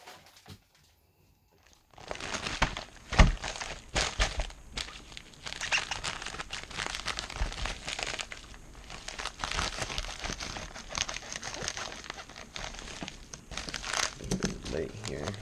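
Packaging for an Xmaxx RC truck T-Bone Racing A-arm and skid set being opened, with sustained crinkling and crumpling of plastic and paper close up, starting after a brief silence and continuing steadily throughout, with speech at times.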